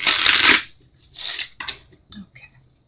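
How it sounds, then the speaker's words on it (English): A loud riffle of tarot cards being shuffled, followed by softer rustles and taps as the deck is squared up, close by. "Last shuffle."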